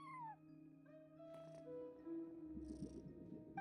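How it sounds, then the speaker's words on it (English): Cat at a front desk in the Genshin Impact video game, a soft rumbling purr with short meows, faint and close, alone without talk. "No one except for a cat watching over the front desk."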